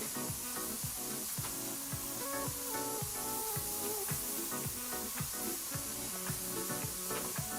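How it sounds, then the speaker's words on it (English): Steady, dense hiss of a spray nozzle in a spray paint simulator video game, continuous white-noise spray running throughout at an even level, with a faint rhythmic beat of background music underneath. "It's also the satisfying white noise of the spray, similar to Power Wash."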